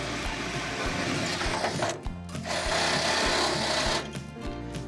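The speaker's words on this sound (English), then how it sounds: "drill from the outside in" A drill bores a hole through a house wall from the outside for a mini split line set, its motor whirring steadily at close range, easing briefly around the two- and four-second marks, with no talk over it.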